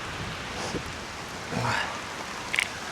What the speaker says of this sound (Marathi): मुसळधार पाऊस, एकदम मुसळधार